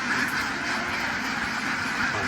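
A flock of ducks kept for a duck-raising business, a dense continuous chorus of quacking and honking, fairly loud and close, with no speech.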